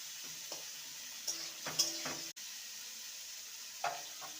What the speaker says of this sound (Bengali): উচ্ছেটা ভাজা হতে থাক,